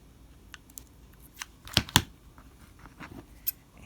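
Scissors trimming sheer fabric along an overlap seam give two crisp, close snips in quick succession, with faint fabric handling and small clicks around them in an otherwise quiet room.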